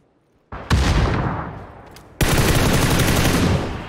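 Loud bursts of automatic gunfire and explosive blasts from grenades in the battle royale game PUBG, a short burst followed by a sustained roar of shooting and explosions, with no talk over it.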